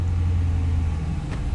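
A Holden VE car engine starts and settles into a steady low idle rumble close by, running continuously and fairly loud with a brief faint higher click near the end.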